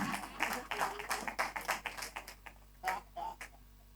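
An audience at a comedy show clapping in a loose burst of handclaps that thins out after a couple of seconds, fairly faint, with a few sparse claps at the end.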